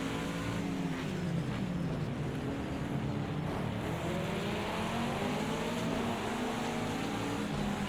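Chevrolet GTD race car engine at Circuit of the Americas in Project Cars, a loud continuous high-revving wail with rising and falling gear sweeps, heard close and alone throughout.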